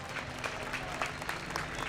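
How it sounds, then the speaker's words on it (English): Spectators applaud at a Formula Drift street event in Long Beach, a brief, fairly faint spread of clapping from a distant crowd with individual claps poking through. "Round of applause for Mike Power."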